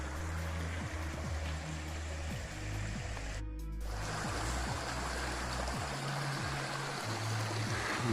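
A creek runs past old coal mine remains, bricks scattered in the water, giving a steady, close broadband rush of flowing water throughout, with one brief dropout midway and no talking.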